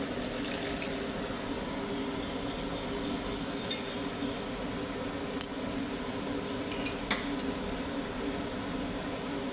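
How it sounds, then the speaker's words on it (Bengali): Hot water poured a little at a time into a pan of browned, oil-released mutton cooking on a gas stove, giving a steady sizzling wash with faint clinks of utensils against the pan throughout. "এবার আমি যে গরম জলটা করে রেখেছি সেই গরম জলটা আমি অ্যাড করে দিচ্ছি অল্প করে"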